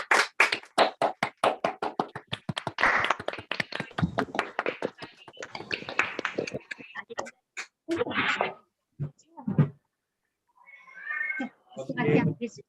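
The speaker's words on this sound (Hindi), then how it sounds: "क्या बात है, जोरदार तालियां अनम्यूट करके।" Participants in an online acting-training session clapping on unmuted microphones, a burst of sharp, uneven claps from several people in the first half, followed by scattered speech.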